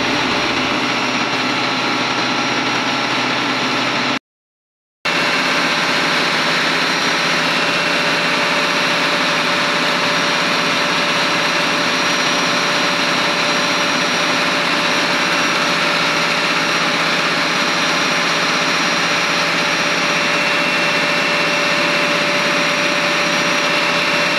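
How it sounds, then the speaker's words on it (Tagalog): Four ship engines running in the engine room of a large cruise-line vessel, a loud, steady, unbroken mechanical roar with a constant hum throughout, interrupted only by a brief dropout near the start. "bali apat na makina ito ng barko"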